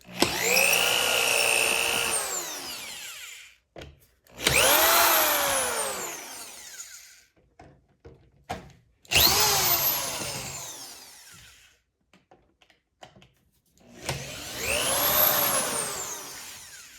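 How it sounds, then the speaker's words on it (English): A power drill runs in reverse, backing screws out of a wooden dining chair seat: four separate whirring bursts, each winding up and down, with short quiet gaps between them, close by. "And we're going to buzz out these 4 screws."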